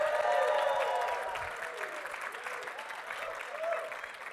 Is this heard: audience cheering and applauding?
yes